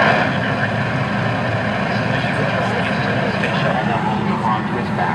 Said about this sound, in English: And the final liftoff of Discovery.